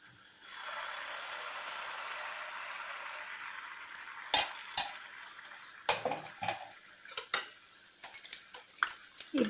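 Rava appam batter ladled into hot oil sets off a soft bubbling sizzle, broken by sharp clinks and scrapes of a ladle against the pan.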